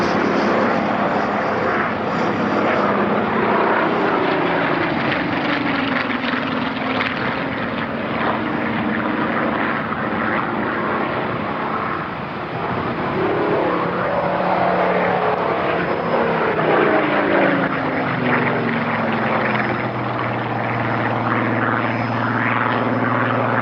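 Propeller aircraft performing a flying display at the Farnborough airshow, the engine drone loud and continuous throughout, swelling and shifting in pitch as it rolls and passes overhead.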